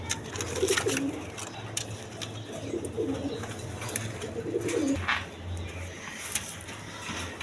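Pigeons coo in soft repeated low phrases among a pigeon seller's birds, with a steady background hum and scattered clatter around them.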